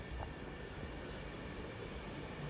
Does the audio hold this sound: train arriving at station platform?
yes